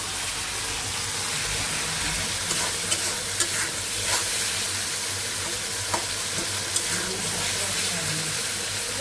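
Stalk vegetable curry with green chillies fries in hot oil, giving a loud, steady sizzle with stirring scrapes and a few sharp clicks throughout.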